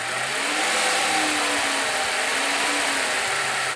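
A Mercedes CL65 AMG engine revs under a mechanic's hand in a workshop, a steady loud mid-pitched drone with slight rises in pitch, close up, no talking.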